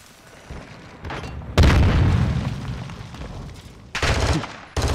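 A grenade explodes in an online shooter video game, with heavy booming bursts of blast noise standing out over a constant rumble of battle and gunfire.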